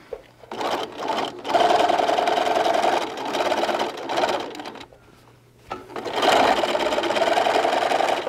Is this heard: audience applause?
no